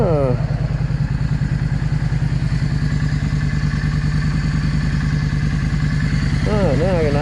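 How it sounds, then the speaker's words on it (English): A Yamaha V Star 650 motorcycle engine idles close by with a steady, rapid low thumping pulse. Someone talks over it near the start and the end. "I can idle it back down just a little."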